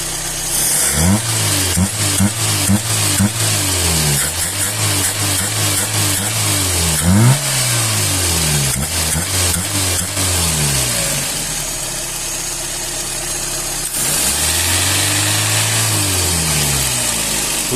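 A cold car engine fitted with a Solex carburetor, not yet warmed up, is revved repeatedly. Each rev climbs and falls back in quick rhythmic bursts, followed by a steadier idle and then one more swelling rev.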